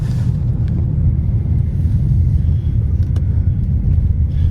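A car drives along a road in Russia with a loud, steady low rumble and buffeting wind noise the whole time, close by and without any talk.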